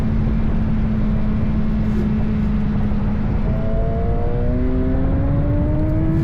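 A racing motorcycle at Brands Hatch Indy circuit accelerating hard out of a bend, its engine note climbing steadily in pitch, loud and close, with a constant whir of wind and mechanical noise beneath.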